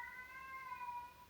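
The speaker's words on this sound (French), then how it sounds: "c'est mon chat qui est en train de miauler." A pet cat gives a single drawn-out, tonal meow, clear but fairly quiet against a hushed room, with no voices.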